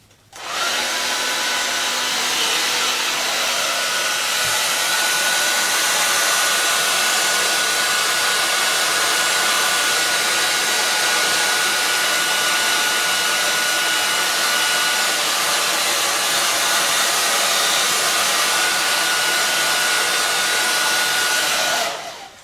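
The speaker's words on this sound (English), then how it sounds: "just going to put my heat gun on it for a second" A heat gun blows steadily over an acrylic paint pour, a loud continuous whooshing roar that switches on and runs for over twenty seconds before cutting off.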